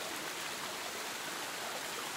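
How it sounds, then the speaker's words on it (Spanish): A small natural spring of clear water flowing at Santa María Ahuacatitlán, a close, steady babbling trickle that runs evenly without pause and with no voices. "Otro ojito de agua."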